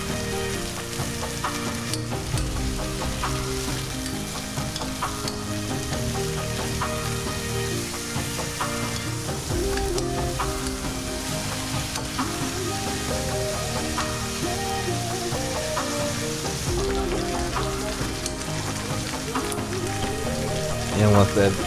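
Chicken pieces fry in a pan with a steady, close crackling sizzle and a dense spatter of pops that holds evenly throughout, swelling slightly at the very end.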